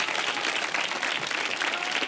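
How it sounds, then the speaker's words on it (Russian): A television studio audience claps loudly and steadily for a couple on a talk show about a vampire-themed wedding, a dense, even, sustained roar of many hands close by, with no speech over it. "Вам аплодисменты."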